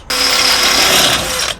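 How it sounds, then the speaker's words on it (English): A power drill bores through an RV frame while a bumper is being removed, giving a loud, steady whine with a bright high tone that runs about one and a half seconds before stopping abruptly. "You use a larger one to start it, and then you drill through with a smaller one"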